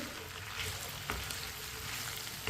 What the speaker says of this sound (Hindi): ऑयल को मैंने अच्छी तरह गर्म कर लिया है। कटी हुई भिंडी डाल लेंगे।